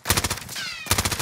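Rapid automatic gunfire in the Call of Duty Warzone video game comes in two loud close bursts of sharp rhythmic shots, split by a brief pause that carries a thin whining tone.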